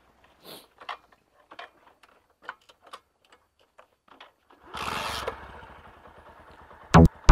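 A motorcycle engine struggles to start, with scattered mechanical clicks and ticks, then a brief rough sputter of the engine catching before dying, followed by a couple of sharp loud bangs near the end; no talking.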